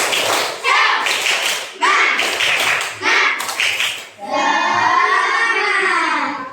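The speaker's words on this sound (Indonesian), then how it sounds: "Tepuk semangat!" A class of children does a rhythmic group spirit clap, several loud bursts of unison clapping in a patterned beat, followed by the group chanting together in voices.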